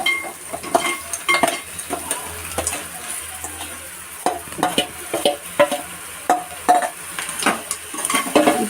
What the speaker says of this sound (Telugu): ఇలా ఈ విధంగా ఫ్రై అటు ఇటు వేపుకుంటున్నాను.